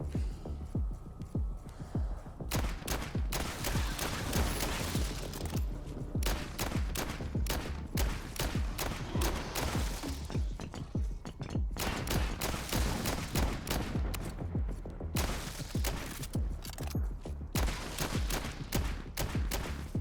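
Super gun firing in the video game Dark Light: Survivor, a dense rapid stream of loud gunshots in sustained bursts with brief gaps, over a throbbing game backdrop.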